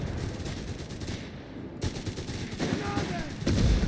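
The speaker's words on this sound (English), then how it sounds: "And anti-tank rifle fire here." Rapid gunfire cracks from Company of Heroes 3 battle fill the scene, including anti-tank rifle shots, with dense repeated bursts that swell louder toward the end and a faint voice underneath.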